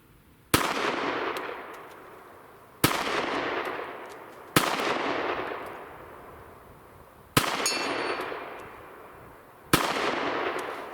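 Five single SIG P365 XL pistol shots ring out at a 12-inch steel plate 80 yards away, each a sharp crack followed by a long echoing decay, spaced roughly two seconds apart outdoors with no talking.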